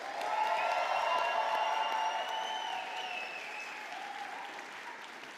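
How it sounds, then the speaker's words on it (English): An awards show audience claps and cheers for drag assistants, with dense sustained applause and whoops rising over the crowd, starting loud and easing slightly toward the end. "let's give our glamorous drag assistants from Sybil's house a huge round of applause too"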